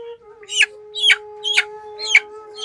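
A chicken offered for sale at a village market clucks in several short, evenly spaced bursts, close and fairly loud, over a steady low hum.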